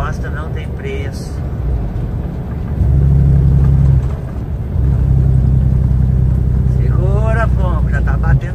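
A loaded cabbage truck's engine revs and accelerates, deep loud rumbling that surges twice in sustained pulls, with voices talking over it.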